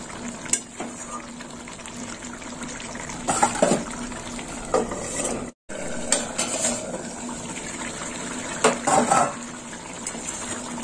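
An elephant foot yam curry sweetened with a little sugar simmers in a pot, giving faint steady bubbling with occasional soft clinks and stirring bursts, and one brief dropout.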